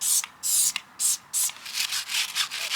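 Cloth scrubbing grease off a car tyre in quick rhythmic passes, a series of loud, close rubbing strokes with short gaps between them, no voices.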